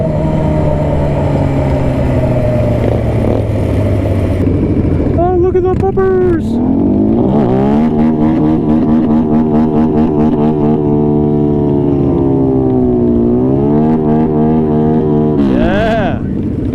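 A modified, non-stock Yamaha R6 sport motorcycle idling with a loud rattle, then revving up and down in long sweeping pulls, close and dominant, with people talking over it.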